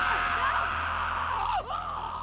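An enemy in The Last of Us Part II video game cries out in pain after his leg is shot off. A loud, sustained anguished groan-scream lasts about two seconds, with a brief break near the end.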